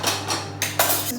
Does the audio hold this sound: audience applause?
no